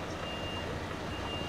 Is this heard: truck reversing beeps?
yes